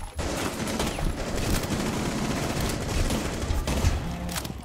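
SMG 11 gunfire in Rainbow Six Siege, a dense, loud, continuous stream of rapid automatic shots with echoing impacts, sustained for several seconds with no talking.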